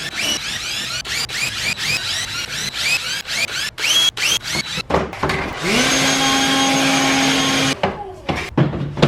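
Power drill boring holes in wood for a handmade sign: a quick run of sharp clicks and short bursts, then a sustained loud whirring drill run of about two seconds, followed by a few more knocks.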